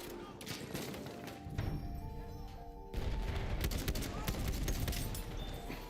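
Gunfire from the online multiplayer shooter Battlefield 1 cracks in dense, continuous bursts, louder after a sharp rise midway, and a voice talks over part of it.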